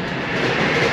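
A passenger train travels on rails between Tashkent and Urgench, heard from inside as a steady, loud rumbling roar with continuous broadband noise.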